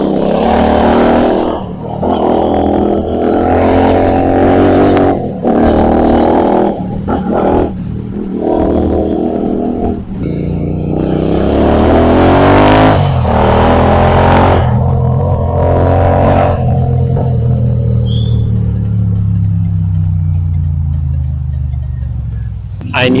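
A Royal Enfield GT 650 motorcycle engine revs up and down several times, loud and close, its pitch climbing and falling, with a voice heard at times.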